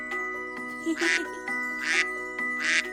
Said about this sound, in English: An adorable duck.